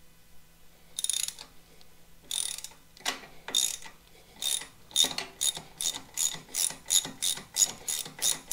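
Hand ratchet backing bolts out of the foot controls on a 2022 Harley-Davidson Street Bob 114, a few slow clicking bursts speeding into a steady run of sharp, close clicks, with no talk.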